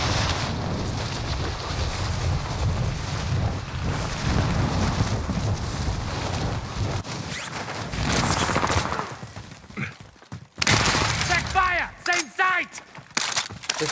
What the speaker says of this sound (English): Ally precision airstrike incoming